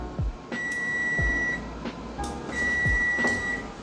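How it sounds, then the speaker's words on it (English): A kitchen timer beeps twice in a kitchen while shrimp and mushrooms cook, each a steady electronic tone lasting about a second, clear over faint background clatter. "I heard that timer."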